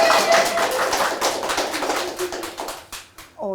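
A studio audience on a Malayalam celebrity talk show breaks into loud, sustained applause, dense clapping that fades out toward the end.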